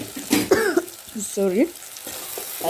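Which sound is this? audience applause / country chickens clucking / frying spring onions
frying spring onions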